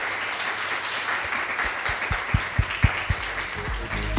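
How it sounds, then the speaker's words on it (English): Audience applause at a developer event for two speakers, a steady crowd clapping with a few louder individual claps standing out near the end. "please give a big round of applause to Jhanvi and Ketaki."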